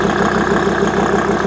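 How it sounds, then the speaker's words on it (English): A truck engine idles while it warms up, a steady close throb with a regular pulsing beat and no voices. "Oh, warm up a bit. Can't rev an engine when it's cold."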